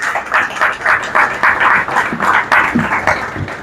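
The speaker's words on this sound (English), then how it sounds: "And I think that deserves a big round of applause." Rhythmic applause at a ceremony where farmers receive land leases, the audience clapping in steady unison beats at a moderate pace, with the pulses close and clearly separated.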